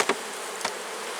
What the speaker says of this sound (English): First we'll knock the bees off.